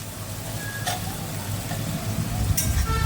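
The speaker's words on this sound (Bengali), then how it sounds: "আমি একবারে হলুদ আর লবণ দিয়ে ভালো করে কষিয়ে নেব" A spice paste with turmeric and salt sautés in a pan, giving a moderate, continuous sizzle with a few brief crackling spikes.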